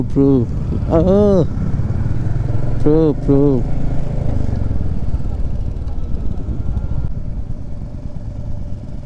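A line of motorcycles rides a mountain road between Zuluk and Sillery Gaon, engine droning steadily and loudly up close, with wind rumble, while someone speaks in bursts early on.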